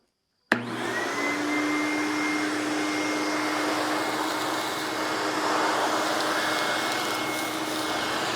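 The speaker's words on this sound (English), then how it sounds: "So we're going to try this thing on this pile of sawdust we got here." A shop vac starts abruptly and runs on a pile of sawdust in a workshop, with a loud, steady whine and hiss and a constant motor tone close by.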